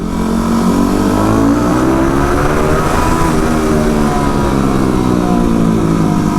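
A Yamaha WR250R supermoto with an FMF pipe and Power Commander V tuning roars continuously at high revs, its loud engine note rising and falling slightly throughout, close up with no talking.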